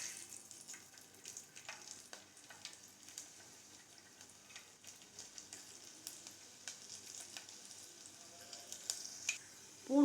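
Garlic frying in oil just after mustard seeds have popped, for a drumstick tamarind kuzhambu: a soft, steady sizzle sprinkled with faint crackles and ticks, close but quiet, with no talking.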